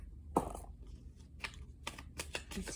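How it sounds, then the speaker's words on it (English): A tarot deck being shuffled by hand: a handful of short, crisp card bursts at an uneven rhythm, close by, with no talking. "Let's shuffle them up."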